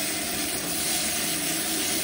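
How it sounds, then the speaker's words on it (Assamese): Diced tomato sizzling in a hot pan with ginger-garlic paste: a steady, close, even hiss of frying with no break and no voices. "এটা বিলাহী কাটি থৈছিলোঁ তাকো দি দিলোঁ দি বিলাহীটো ধুনীয়াকৈ অকণমান ভাজা যোৱালৈকে"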